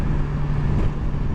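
A BMW S1000 XR motorcycle on the move, giving a steady, loud engine drone mixed with road and wind rush, continuous and close with no speech.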